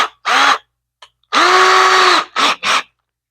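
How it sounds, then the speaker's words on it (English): A power drill boring a small pilot hole in wood for a boat seat whines in close, loud bursts: one short run, a longer sustained spin, then two quick pulses, with silence between. "We need to get a small pilot drill, smaller than we had before."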